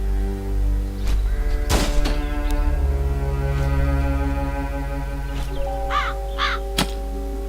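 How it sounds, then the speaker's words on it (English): A crow caught in a trap in the video game Chains of Satinav caws several times, harsh repeated calls over a steady low musical drone with a few thuds, fairly loud and close. "Сейчас ловим ворону."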